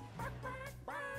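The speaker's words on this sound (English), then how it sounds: "What the hell is that chicken sound?" A chicken clucking sound plays from a League of Legends stream that was left running, with a few short, moderately faint clucks and a squawk in quick succession.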